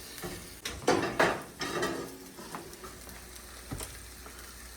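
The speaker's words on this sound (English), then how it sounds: "we're going to put them back in the oven. I'm going to rotate them" A pan of boudin-stuffed pork chops is handled and slid back into the oven, with a couple of close metallic clanks and scrapes over a soft sizzle, then quieter oven and kitchen noise.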